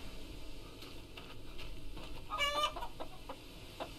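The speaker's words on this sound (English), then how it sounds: "Chickens aren't gonna run from me." Chickens cluck in the video game Hollow Cocoon, a series of short, fairly quiet clucks with one brighter squawk near the middle, over a soft low background.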